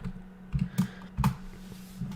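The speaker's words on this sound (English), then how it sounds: "I made a mistake in typing that." Keys clacking on a computer keyboard in short bursts of a few taps, close and fairly quiet over a steady low hum, with no voice.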